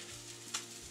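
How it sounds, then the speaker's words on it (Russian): Salmon frying in a pan, a close, steady sizzle lasting under a second with a faint stir or clink partway through and no talking. "пока жарится рыбка, делаем сок, как обычно."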